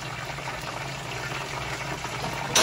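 Orange chicken sauce of spices and liquid ingredients simmering in a pan over medium-high heat with a cornstarch and cold water slurry added, giving a steady, soft bubbling and hiss throughout, heard alone.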